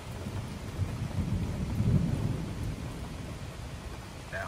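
A thunderstorm rolls in with steady rain and a low, distant rumble of thunder swelling and fading, fairly quiet and with no voices.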